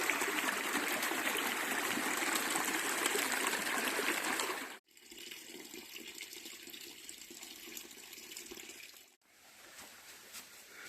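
Mountain stream water flowing along a creek bank under trees in a highland plateau, a steady broadband rush that stays continuous and fairly close, dipping briefly twice before resuming at a slightly softer level.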